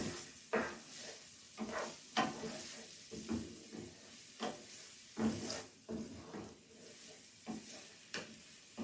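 Garlic is added to a stuffed-pepper filling frying in a pan. A soft, low sizzle runs throughout, broken by irregular scraping stirs of a utensil against the pan, all fairly faint.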